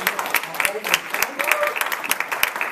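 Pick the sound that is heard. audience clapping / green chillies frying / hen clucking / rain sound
audience clapping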